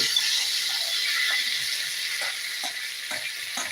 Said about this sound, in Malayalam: ആ കടുക് വറുത്തതും റെഡിയായി ഗേസ് നമ്മൾ പരിപ്പ് കറിയിലേക്ക് ഒഴിച്ചു കൊടുക്കുകയാണ്